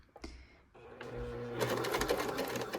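A Kenmore sewing machine stitches a buttonhole, starting with a few soft clicks before settling into a fast, steady mechanical whirr of rapid needle strokes, close and clear.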